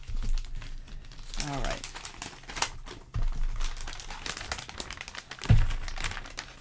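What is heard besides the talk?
crinkling of packaging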